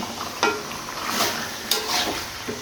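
Beef with chili and spices is stirred in a pot over the heat, giving a steady frying sizzle broken by a few sharp scrapes and clinks of the spoon against the metal.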